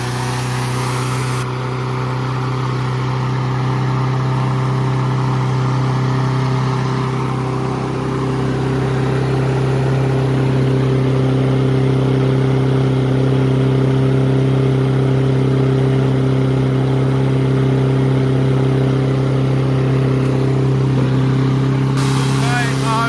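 A Honda engine on a Troy-Bilt machine runs steadily at high RPM for the whole stretch, loud and close, with a constant droning hum and strong harmonics and no pauses.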